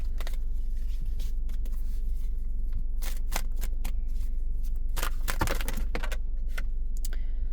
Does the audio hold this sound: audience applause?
no